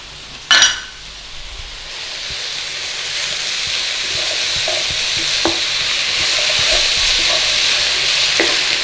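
Leeks and onion with dried thyme soften in a pan, a gentle continuous sizzle with occasional stirring scrapes and taps after a brief clatter at the start, no voices.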